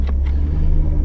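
A 1990 Nissan Skyline R32 GTS-4 driving on a bumpy road during a brake test, a steady low engine and road rumble heard from inside the cabin, with a couple of faint brief knocks early on.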